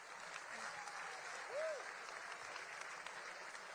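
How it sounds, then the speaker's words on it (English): Applause from the audience at the White House Correspondents' Dinner, a faint, distant, steady wash of clapping in a large room, with a brief whistle-like tone rising and falling partway through. "Give her a round of applause,"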